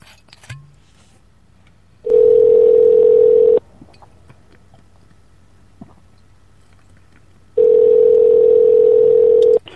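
A steady telephone tone on a phone line plays twice as long, loud, even blocks of about one and a half and two seconds, with near-silence in between.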